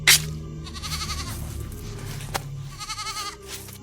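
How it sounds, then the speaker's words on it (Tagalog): A goat bleats several times, wavering cries coming close and fairly loud amid rustling and scattered clatter, with a sharp click midway and no speech. "ginigilitan niya yung kambing"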